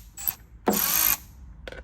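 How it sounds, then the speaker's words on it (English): A ratchet clicking as screws come out of a Dodge Challenger's factory inlet tube: a short click, a longer rapid ratcheting burst, then another brief click, close and clear. "go ahead and remove all the screws"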